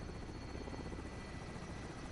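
Helicopter rotor thumping steadily and loudly in a PS4 video game, a dense continuous whir with rhythmic beating that holds throughout without anyone talking.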